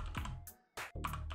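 A few quick keystrokes tap on a computer keyboard up close, in two short bursts separated by a brief pause.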